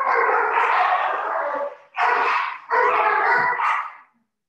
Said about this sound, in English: that was my dogs in the background